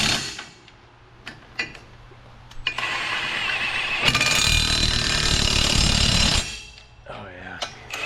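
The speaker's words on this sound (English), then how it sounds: "We're gonna put the master link in. Just like that, getting them tightened down." Master link bolts are tightened on a 450 dozer track: a few sharp metallic clanks, then a loud, grinding, rattling power-tool burst lasting about four seconds, fading to quieter clanks and faint voices.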